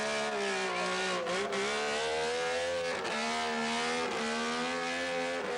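An off-road jeep's engine revs hard and continuously as it churns through a bog trench at a 1984 cross-country jeep club event, a loud, sustained roar with rising and falling pitch swells and no voices.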